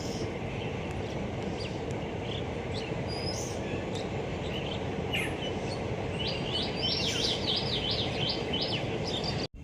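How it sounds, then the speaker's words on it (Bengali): A train passes near Kasimbazar station, a steady low rumble heard from a nearby garden with birds chirping and trilling over it, continuous and moderately distant. "দেখো ট্রেন যাচ্ছে।"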